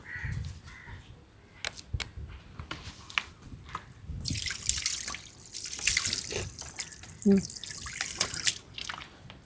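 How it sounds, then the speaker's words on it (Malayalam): Water gushing from a pipe on a vehicle-free island in Kochi, a rushing splash that swells midway, with crows cawing nearby and scattered clicks and knocks around it. "പൈപ്പിൽ വെള്ളം വരുന്നുണ്ട്."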